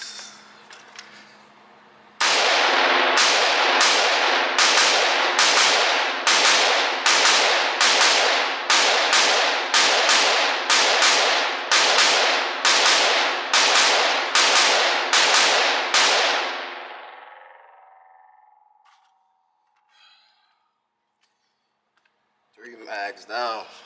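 A PSA Sabre 15 rifle fires from a windowed Magpul PMAG, with about fifteen loud, close shots at a steady quick pace, then a fading ring, silence and a brief voice.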